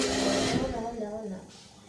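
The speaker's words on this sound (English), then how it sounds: "I'm gonna put on the blow dryer here" A hair dryer blows with a steady, close whirring rush and then winds down and fades within about two seconds.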